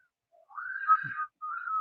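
A person attempting to whistle produces a wavering tone that rises and holds, breaks off briefly, then returns as a second shorter whistle, quiet and close with no talk.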